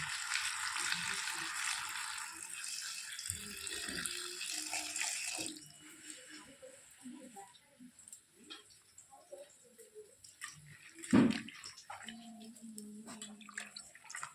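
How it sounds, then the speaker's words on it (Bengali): Water poured into a cooking pot while making puti fish chorchori. A steady rushing pour comes first, then quieter splashing and clatter follow, with a voice speaking at times. "এখন দিয়ে দেবো জল।"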